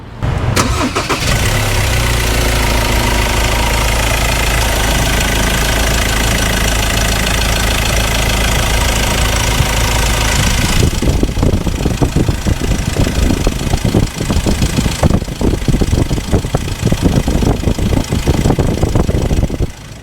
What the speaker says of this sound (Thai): เดี๋ยวฟังเสียงเครื่องกัน